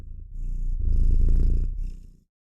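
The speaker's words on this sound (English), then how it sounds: "We took a sample of a cat purring" A sampled cat purr, steady and close, rumbling low with a continuous pulsing texture for about two seconds before cutting off.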